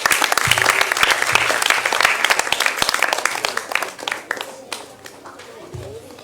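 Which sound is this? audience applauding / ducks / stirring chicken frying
audience applauding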